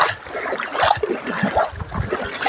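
Water flows and sloshes close beside a boat, with uneven splashes and trickles rising and falling at moderate volume throughout.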